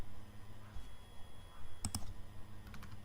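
A computer mouse gives a quick pair of close clicks near the middle, followed by a couple of fainter clicks, over low room noise while saving a page in WordPress.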